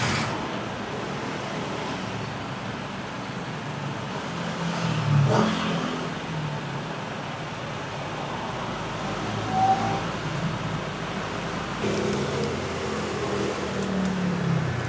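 A car engine revs to about 2,000 RPM, a steady loud drone mixed with road and traffic noise that swells slightly a few times.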